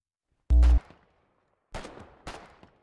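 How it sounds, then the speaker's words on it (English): A grenade goes off in a video game as one sharp, loud boom, followed a second later by two smaller cracking blasts that decay quickly into silence. "That was the grenade."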